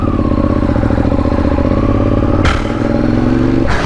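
Idling motorcycle engine rumbling loud and steady up close, with a brief clattering shift partway through and a rising rev near the end, no voices.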